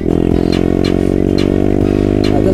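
A Honda Grom MSX 125 motorcycle rumbles loudly and steadily while being ridden, a close, continuous engine drone with a rapid pulsing beat and faint wind buffeting, no speech.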